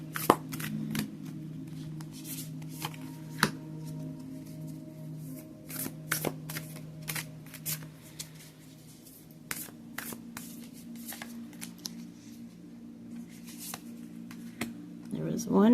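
Oracle cards from a Beyond Lemuria deck are shuffled by hand, giving repeated soft riffling flicks and taps over about sixteen seconds, close and fairly quiet, with a low steady hum underneath.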